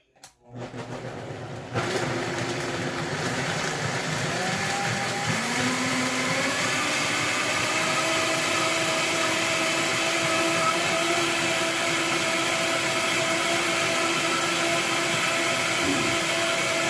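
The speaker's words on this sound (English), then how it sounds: "Now I'm going to let that blend for about 5 to 7 minutes" A countertop blender runs steadily for a long stretch after a brief click and spin-up, a loud, constant whirring drone close by with no talking.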